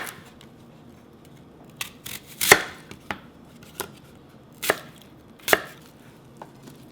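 A knife slices cucumber thinly on a cutting board, making sharp, crisp chops in an irregular rhythm, close and clear in a quiet kitchen.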